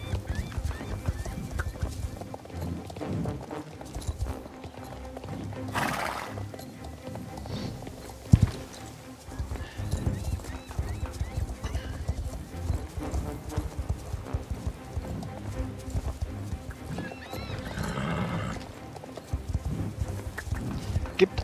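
Horse hooves clip-clopping in the video game Star Stable, a steady rhythmic trotting patter under faint game music, with a brief whinny partway through and occasional soft talk.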